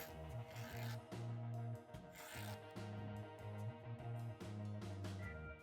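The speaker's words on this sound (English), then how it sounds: "started removing material with a flat file" A flat file rasps across a steel bandsaw-blade cutter being shaped into a scratch stock profile, strokes close and steady in a repeating back-and-forth rhythm with short pauses between passes.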